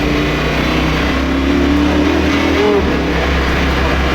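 An ABT XGT race car engine revving under acceleration from inside the cabin, a loud sustained engine roar with a wavering pitch as the throttle is pressed.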